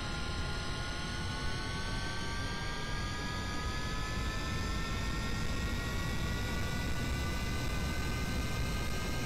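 A spaceplane engine in Kerbal Space Program roars steadily with a rising whine, a constant loud jet drone that climbs in pitch as throttle increases, with no talking over it.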